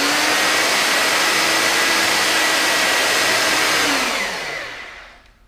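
A Princess Auto portable electric pipe threading kit runs steadily as it threads oiled pipe, giving a loud, continuous motor whine with grinding that winds down and fades out near the end.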